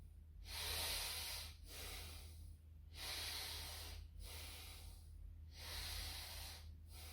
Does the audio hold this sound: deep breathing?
yes